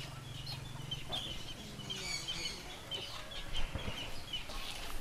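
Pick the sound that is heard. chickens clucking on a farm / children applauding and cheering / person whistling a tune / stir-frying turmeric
chickens clucking on a farm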